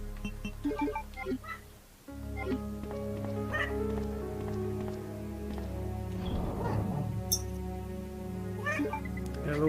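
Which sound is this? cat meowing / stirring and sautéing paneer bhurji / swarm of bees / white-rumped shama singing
cat meowing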